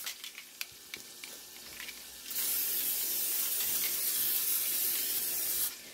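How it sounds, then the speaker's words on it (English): Steady, loud hissing sizzle of chicken frying in hot oil, starting abruptly after a couple seconds of quieter clattering and continuing evenly before cutting off. "it's the last of the fried chicken"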